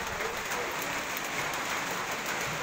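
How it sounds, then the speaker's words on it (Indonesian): Rain falls steadily at a beach during a diving course, a dense, even hiss of drops spread across the whole clip with no pauses. "Oh, sama hujan."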